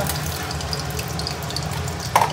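Fresh live prawns fry in a small amount of oil, giving a steady close sizzle with crackling spatters and one brief louder pop near the end.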